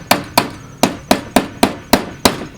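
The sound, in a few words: hammering lantern crown metal over wood block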